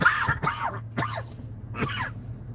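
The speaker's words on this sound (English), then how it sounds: "Let me cough this out" A man coughs and clears his throat several times in quick, rough bursts, close and moderately loud, with no talking.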